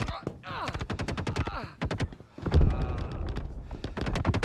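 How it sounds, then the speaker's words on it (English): Gunfire and grenade blasts from a Star Citizen combat match form dense, rapid bursts of shots and heavy thumps throughout, loud and continuous. "we're dodging more grenades than we are bullets"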